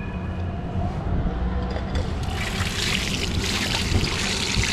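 Drinking water splashes steadily over hands at an outdoor hand-wash tap beside a restaurant, a close, continuous pour and trickle with no talk.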